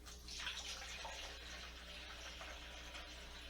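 Water poured from a full gallon jug into an AeroGarden's reservoir, a steady, close, continuous splashing that holds even through the pour with no talk over it.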